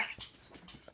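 Dogs whimper and yip in short, close bursts, a quick cluster of high whines and small breathy sounds within a second, with no talk over them.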